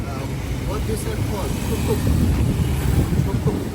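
Ride in a Thai tuk tuk built from a Honda scooter with a sidecar, a constant loud engine rumble and wind buffeting throughout, with people talking over it.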